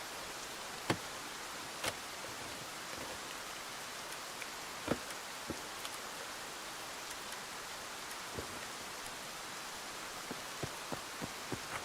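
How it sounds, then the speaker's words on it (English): Heavy rain pours down outdoors in a dense, steady hiss, with scattered louder drips and taps standing out through the wash, nearby and unbroken, with no voices. "the fucking rain's loud"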